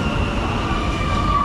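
A metro train in Medellín, Colombia rumbles steadily from inside a carriage, a dense continuous roar with a thin tonal whine rising near the end, loud and unbroken.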